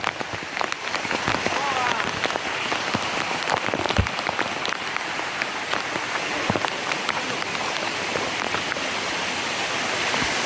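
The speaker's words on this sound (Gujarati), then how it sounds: "જોરદાર વરસાદ." Heavy monsoon rain pours over the Girnar hills at Junagadh, with water running down from the hill: a dense, continuous hiss of drops hitting surfaces, with scattered louder splashes throughout and no clear talk.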